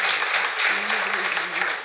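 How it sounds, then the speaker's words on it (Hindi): An audience applauds for Bhumika Sharma, the Haryana anchor, in a steady, dense burst of clapping that fills the room throughout. "तो भूमिका के लिए एक बार तालियां बजाइए।"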